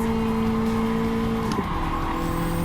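A race car in Gran Turismo 7 holds a steady, high engine whine while leading on the first lap, with a brief tire chirp midway before the engine note shifts down.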